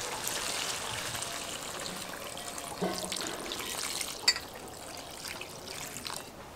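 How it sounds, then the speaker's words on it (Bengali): Water poured into a pot of browned meat, spices and potatoes for a Bengali dish: a steady, fairly faint pouring and trickling wash that runs for several seconds with no talking. "এখন এর মধ্যে দিয়ে দেব জল।"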